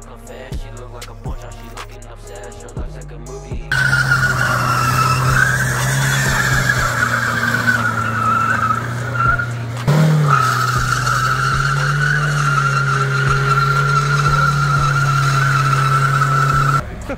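A car does a burnout, tires skidding and squealing in a loud sustained screech with engine roar beneath, briefly dipping and surging again before continuing, after a quieter lead-in of mechanical clicks.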